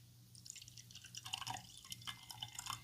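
Gilbey's gin, a cheap bottle, poured into a glass in a few soft, close splashes and drips with a faint hum underneath.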